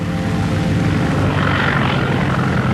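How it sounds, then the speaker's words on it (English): A light aircraft on its landing roll down a runway on a cold day with a 20-knot wind, its propeller engine droning steadily and loudly throughout, with no voices. "With a 20-knot wind to slow him down, Harry Bliss lands with runway to spare."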